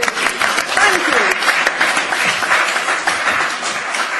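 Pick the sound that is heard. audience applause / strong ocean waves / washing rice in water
audience applause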